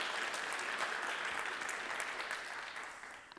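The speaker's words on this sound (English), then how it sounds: "Round of applause, please, for Frank." A conference audience in a ballroom at SCaLE 21x applauds a speaker named Frank, a soft, even patter of many hands heard at a distance that tapers slightly near the end.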